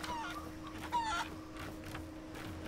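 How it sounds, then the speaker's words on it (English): Chickens cluck in the video game Sea of Thieves and a rooster call rises briefly, fairly faint, over a steady low hum. "I can hear the chickens"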